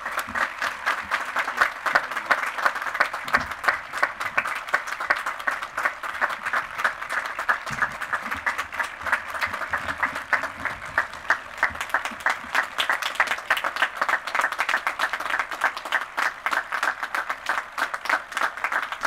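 An outdoor fall convocation crowd claps steadily in welcome for Professor Ted Delaney, a long, even, moderately distant round of applause that keeps going without pause.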